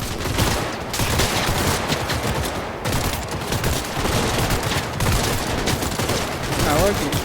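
Guns firing in the video game Cyberpunk 2077, a dense, loud, nearly continuous volley of shots with brief dips, filling the whole stretch without pause.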